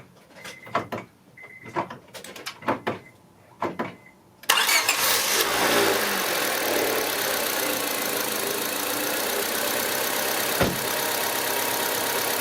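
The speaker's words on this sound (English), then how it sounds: "So let's start the car." A few scattered clicks and rattles come first, then a car engine cranks and catches after front brake pad and transmission fluid work, settling into a steady, loud idle that runs on to the end.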